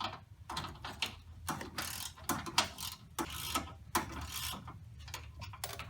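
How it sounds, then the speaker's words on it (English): A small hand ratchet tightens the rack and pinion bolts on a 2009 Mustang GT, with rapid close clicking bursts in irregular strokes, moderately loud and without voices. "I've got this nifty little ratchet"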